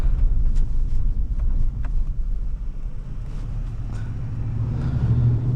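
A 2004 Ford Explorer's 4.6L V8 drones steadily while driving, a deep, continuous low rumble heard from inside the cabin with some wind noise layered over it.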